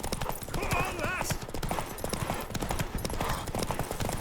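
Rapid, steady clip-clop of horse hooves at a gallop in the video game The Witcher 3: Wild Hunt, loud and close, with a brief whinny and some background voices mixed in.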